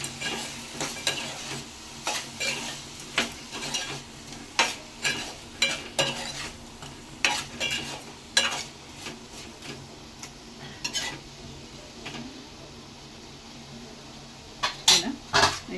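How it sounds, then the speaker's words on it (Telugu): Turmeric and salt stirred into an eggplant curry in a pan for a Godavari crab pulusu, a spoon scraping and clinking in a steady series of sharp strokes over a soft, constant sizzle. "పసుపు టేస్ట్కి సరిపడా ఉప్పు అయితే వేస్తున్నానండి వేసి మంచిగా కలుపుకోవాలన్నమాట"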